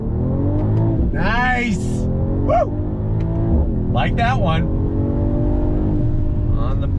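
A 2021 Mercedes-AMG GT 43 sedan pulls away hard from a standstill in first gear, its engine note climbing steadily and loudly throughout while people inside the car talk and cheer over it.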